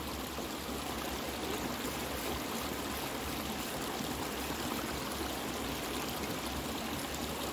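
Running water pours steadily from a tap into a sink while preparing for a shave, with an even, continuous rushing and splashing close by and no speech.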